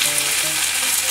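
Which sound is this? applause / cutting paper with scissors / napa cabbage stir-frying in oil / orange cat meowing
napa cabbage stir-frying in oil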